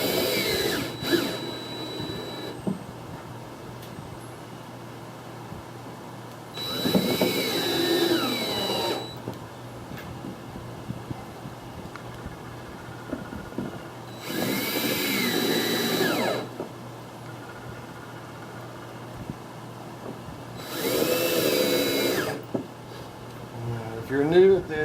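A power drill whirs in three separate bursts of several seconds each while drilling holes in a kayak deck, with quieter gaps between; a person talks throughout.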